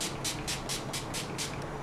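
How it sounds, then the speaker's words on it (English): An all-nighter makeup setting spray misted in a series of about seven quick, evenly spaced hissing pumps, close and crisp over a low steady background. "Now I'm going to go ahead and set with the all-nighter spray"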